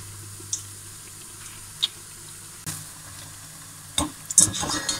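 Artichoke flowers frying in a pan of oil, a faint low sizzle with scattered sharp pops and splatters, plus light clinks of stirring toward the end.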